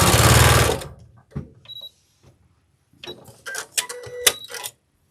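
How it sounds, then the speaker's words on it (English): A sewing machine stitching a seam on a scrappy patchwork quilt block: a loud, fast run of needle strokes for about a second, then scattered clicks and clunks as the fabric is handled. "Sew a seam right there."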